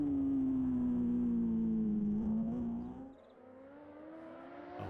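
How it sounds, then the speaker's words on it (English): Big 1000cc BMW racing motorcycles at a road race scream past at high revs, a loud sustained engine whine that drops in pitch and fades as the machines move away. "The big 1000cc machines, both on BMWs."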